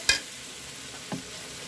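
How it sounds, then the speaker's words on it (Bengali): Spices go into fried onions in a pan, a soft steady sizzle broken by two quick clattering knocks, one at the start and one about a second later, no voices. "আমার পেঁয়াজ ভাজা হয়ে গেছে, এখানে আমি সম্পূর্ণ মশলাগুলো এখন দিয়ে দিব।"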